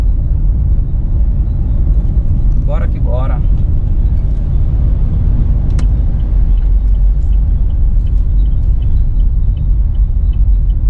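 Steady low road rumble from inside a car cruising in a convoy on the BR-381 Fernão Dias highway, loud and continuous, with brief speech over it.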